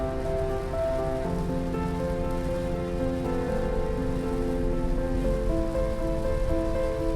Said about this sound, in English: But once again, we were met with rain